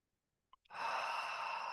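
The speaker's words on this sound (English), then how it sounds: "Take a deep breath." A single long, audible deep breath, drawn during a guided heart-centred meditation, follows a couple of tiny soft clicks; the steady airy exhale-like rush is close and quiet, with no talking.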